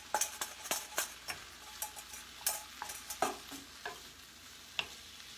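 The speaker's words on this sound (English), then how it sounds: "Now we're going to put our ground lamb back in." Ground lamb frying in a pan while being stirred, with a quiet sizzle under irregular scraping and tapping of a utensil against the pan.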